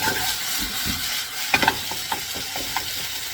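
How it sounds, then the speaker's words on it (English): Teriyaki beef fried rice with black pepper and sesame oil stirred in a hot pan, a steady sizzle under scattered scraping clicks of the utensil, close by. "Now we're gonna give them a quick stir."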